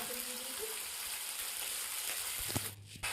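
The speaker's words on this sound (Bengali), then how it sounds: "বাটা মাছগুলোকে একটা একটা করে গরম তেলে ছেড়ে দিতে হবে" Bata fish sizzle steadily in hot oil in a wok, a continuous broadband frying hiss with a few clinks near the end.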